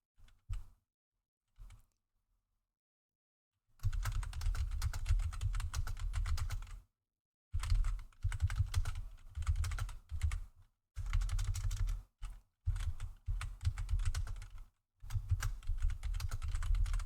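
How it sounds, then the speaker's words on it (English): Noisy computer keyboard typed in several sustained bursts separated by short pauses, close and fairly loud, with a few faint taps at the start and no talking. "Yes, I've got a noisy keyboard."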